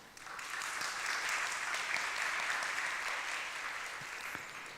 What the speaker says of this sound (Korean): 우리 박수로 한번 우리 축하 박수 드리겠습니다